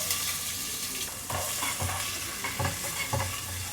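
Onions and fennel seeds frying in a new pan, a steady loud sizzle with intermittent stirring scrapes throughout, no talking.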